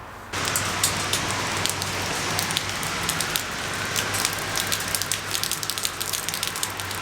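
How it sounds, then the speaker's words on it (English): Steady rain falling and pattering on a hard surface, with scattered close drops ticking over a constant wash and a low hum. "It's raining."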